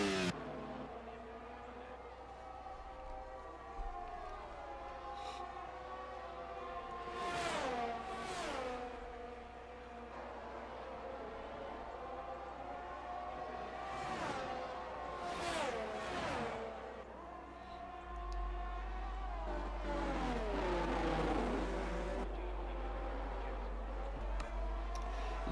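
Race cars lapping Suzuka in a racing video game, engines droning steadily with repeated sharp whooshes as cars pass close by in quick clusters, revs rising and falling through corners, loud near the end.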